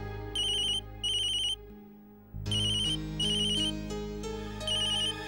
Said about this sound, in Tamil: ராகுலோட ஸ்கூல்ல இருந்து கால் பண்றாங்க